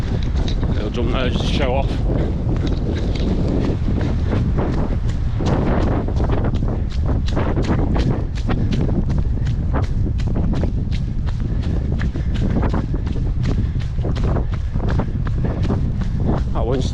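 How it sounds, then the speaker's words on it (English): Strong wind rushing through tree cover on a run, a steady broadband roar with footsteps thudding along beneath it and someone talking over the top. "That wind's still coming through all this tree cover. It's pretty strong still."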